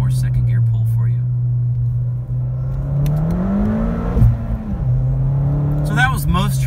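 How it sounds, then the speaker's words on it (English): A Ford Fiesta ST with an X47 setup on race gas accelerates hard in second gear, its engine note rising steadily and loud from inside the cabin, then a brief dip and a renewed pull with some road rumble. "Let's do one more second gear pull for you."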